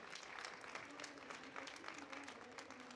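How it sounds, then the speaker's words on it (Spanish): An audience applauds a speaker at a book festival panel, with dense, steady clapping that runs at a fairly even level throughout and stays rather quiet and distant. "Un aplauso para Celerina Patricia, por favor"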